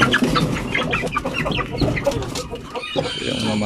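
A flock of chickens clucks busily up close, overlapping calls forming a constant, chattering din.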